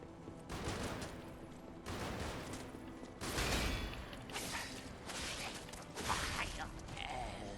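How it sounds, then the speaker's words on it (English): Enemies in the game Lies of P shoot at the player in bursts of gunfire and mechanical clatter, several loud volleys separated by brief gaps, with a voice talking over them. "Everyone's trying to shoot me down."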